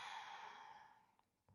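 A long, soft exhaled breath during a slow neck-circle exercise, fading gradually over about a second, followed by a couple of faint small clicks and a brief intake near the end.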